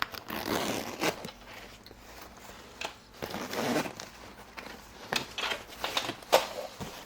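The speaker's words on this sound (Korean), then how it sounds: "버클 두 개를 풀렀고 이제 지퍼를 열어볼게요" A zipper is opened on the detachable pouch of a British Army Multicam infantry backpack, close-up ragged zipping and fabric rustling in several short pulls, with clicks and handling noise.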